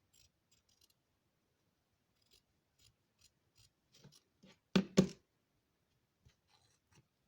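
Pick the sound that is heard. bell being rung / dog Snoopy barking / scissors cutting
scissors cutting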